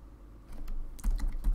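Typing code on a computer keyboard while setting up a Node.js Discord bot, with close, crisp keystrokes that speed up into quick bursts near the end, heard alone.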